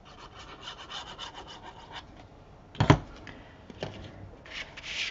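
Burnishing glued paper attachment flaps on a paper album folio: soft repeated rubbing strokes, close and quiet, with a sharper scrape midway and a brief hiss of friction at the end.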